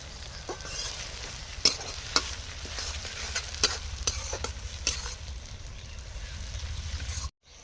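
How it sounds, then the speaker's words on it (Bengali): Onions sizzle steadily in a pan while a spatula scrapes and knocks against it in irregular strokes, close by, ending abruptly. "পেঁয়াজ ভাজা হয়ে গেছে"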